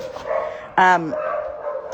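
A single rescue dog barks once, a short, loud, close bark standing out over a steady background hum.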